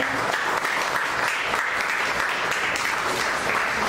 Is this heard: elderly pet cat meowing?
no